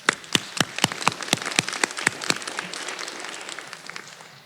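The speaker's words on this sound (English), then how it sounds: "May we give them a round of applause?" Small graduation audience at an adult education ceremony claps in sharp, scattered hand claps, brisk at first, then thinning and fading out over a few seconds.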